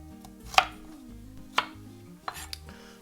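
A knife cuts a small carrot into tiny pieces for doenjang soup, sharp knocks on a cutting board, about four distinct chops spaced unevenly over a quiet kitchen background.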